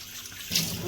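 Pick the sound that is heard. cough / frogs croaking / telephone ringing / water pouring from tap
water pouring from tap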